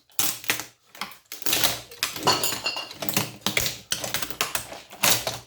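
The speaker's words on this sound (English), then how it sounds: "Rip them out of the board." Electronic components are wrenched out of a circuit board in a rapid series of loud, close clattering rips and snaps, coming in repeated bursts with brief pauses between.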